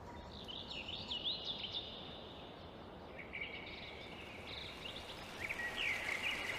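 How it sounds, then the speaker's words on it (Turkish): Faint chirping birdsong drifts in from outdoors in the countryside, with insect buzz over a steady rushing background that may be a nearby stream. "İlerideki dereyi, kuş seslerini."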